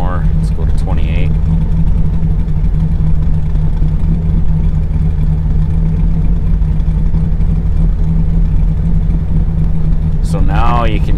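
A car engine idles steadily after a camshaft swap during idle tuning: a constant low, even hum runs throughout, with brief speech-like bursts near the start and end.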